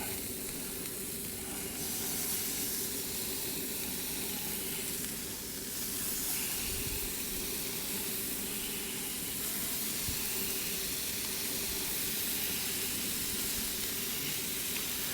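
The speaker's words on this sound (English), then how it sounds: "I'm going to go ahead and get them down to get some sizzle on them." A steady, loud hiss of smashed burgers sizzling on a hot griddle, continuous throughout with a few faint clicks underneath.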